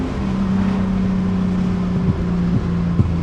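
A steady, low V8 engine drone in a BMW E30 runs throughout, with small pops and blips near the end, heard from inside the car over wind noise.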